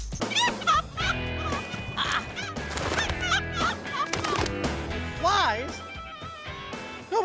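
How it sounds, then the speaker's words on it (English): A wild chicken on a deserted island squawks loudly in rising, wavering cries as it is chased and takes flight. Music plays and people talk throughout. "Nobody told me chickens could fly."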